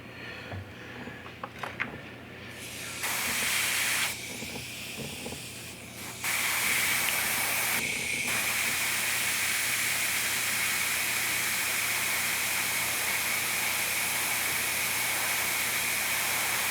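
Spray paint hissing from an aerosol can as black paint is sprayed onto a quarter-scale Spider-Man sculpture, short bursts at first and then a long, steady, close hiss.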